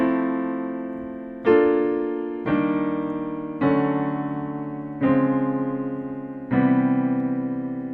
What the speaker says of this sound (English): If I play a whole bunch of Maj 7s in a row, it sounds like this.